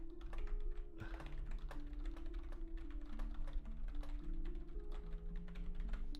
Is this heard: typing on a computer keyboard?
yes